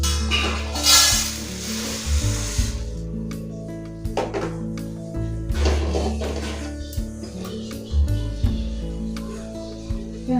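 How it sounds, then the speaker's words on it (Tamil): Lentils roasting dry in a pan for idli podi, with a steady sizzle broken by repeated scraping and stirring strokes, clinks of the spoon against the pan, and a soft tonal hum underneath, close and fairly loud with no talking. "உளுந்தம் பருப்பும் நல்லா வறுபட்டுருச்சு"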